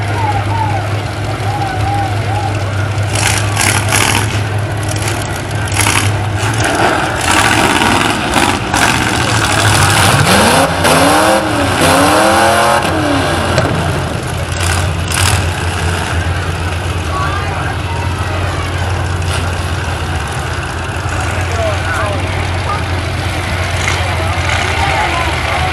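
Several trucks at a pumpkin smash event idle and rumble with steady low engine drone, rising and revving in places, while an announcer talks throughout over loud crowd-event background.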